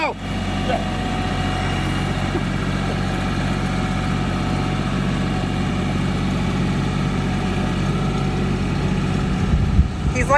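A tractor engine idles steadily nearby, a loud, constant low rumble with a faint mechanical whine running for about ten seconds, ending with a brief clunk.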